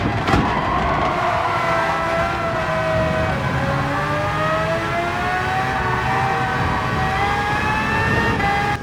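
A race car circles Spa-Francorchamps in Gran Turismo 7 during an online Nations Cup qualifier, its engine a steady, loud drone whose pitch rises and falls gently as it runs in another car's slipstream, with no talking.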